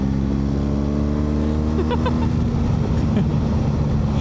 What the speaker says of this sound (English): That's not even half revs. That's just a roll on in 5th gear.